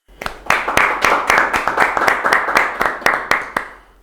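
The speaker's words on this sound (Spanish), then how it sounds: "Un fuerte aplauso para el señor Oscar de la Barrera." A studio audience on an entrepreneurship show applauds a guest, an agronomist and company president, with brisk rhythmic clapping that sounds like a small group close by and keeps an even pace for about four seconds.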